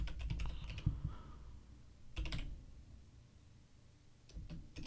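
Computer keyboard typing during a premarket trading stream, coming in clustered bursts of quick clicks with short pauses between, fairly close and moderately loud, no talking.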